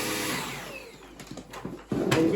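A LEVOIT LVDC200 cordless vacuum cleaner, its bin full of porridge oats and dust, runs with a steady whirring motor that shifts in pitch, followed by a louder surge near the end.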